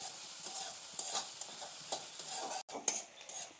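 Chopped onions frying in a pan, a quiet hiss with intermittent scrape-like stirring strokes and one brief dropout near the end, faint and close.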